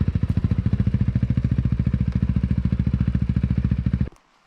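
Honda CRF450L dual-sport motorcycle engine idling nearby with a steady, loud, rapid chugging pulse, then cutting off abruptly near the end.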